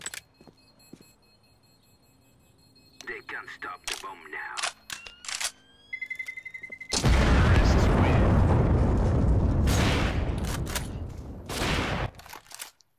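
A burst of gunfire in a Counter-Strike-style shooter on the Inferno map, rapid loud shots dominating several seconds after scattered clicks and game effects, with players talking over it.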